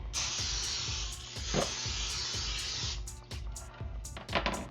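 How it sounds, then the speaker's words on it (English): Continuous hiss of cooking spray sprayed into a 9x13 baking dish, held down for a few seconds, followed by shorter bursts, close and fairly loud. "spray it with cooking spray"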